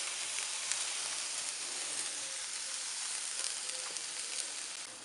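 Chicken and soy skewers sizzle on a hot plancha in a dense, even crackling hiss that fills the whole stretch at a steady level, close and unbroken, with no voices.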